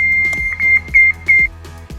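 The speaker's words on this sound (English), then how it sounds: "the machine stops upon contact and an alarm will sound" A Genie Lift Guard contact alarm on a vertical lift platform beeps in a steady on-off pattern of four loud tones, with light mechanical clicks and low hum underneath.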